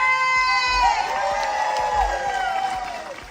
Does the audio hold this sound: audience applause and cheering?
yes